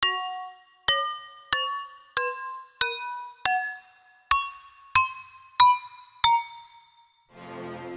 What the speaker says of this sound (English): we're going to be making a trap bell inside of Serum, and this is what it sounds like